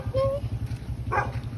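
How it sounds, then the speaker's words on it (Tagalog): A dog outdoors gives a few short whimpering yips near the microphone, heard over a steady low rhythmic background hum. "may aso doon"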